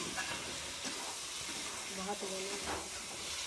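Chicken frying in a pot on a clay stove gives a low, steady sizzle with soft stirring scrapes and a few brief clatters, heard close up with no talking.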